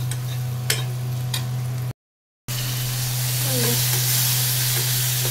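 Okra curry fries with chopped onion, garlic, coriander, cumin and turmeric powder, a steady close sizzle and hiss under a constant low hum, briefly cut to silence midway, then continuing.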